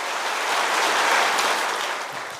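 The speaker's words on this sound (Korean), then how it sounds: "우리 하나님께 영광의 박수 한번 돌리시면 감사하겠습니다." A church congregation claps during a Sunday worship service, a dense and fairly steady round of applause at a moderate distance that swells slightly and then begins to fade.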